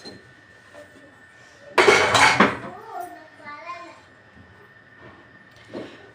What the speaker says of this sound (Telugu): మిక్సీ జార్లోకి శనగకాయలు వేసుకుంటున్నాను